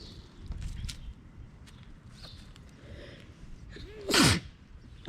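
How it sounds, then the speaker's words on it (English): A single sudden sneeze from a person close by, a sharp loud burst near the end, with faint talk and household background noise before it. "Oh my God, I'm sneezing."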